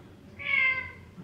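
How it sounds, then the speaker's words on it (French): A single clear cat meow, short and mid-pitched, heard alone in a quiet indoor setting at moderate volume. "Ça, c'est un chat interactif."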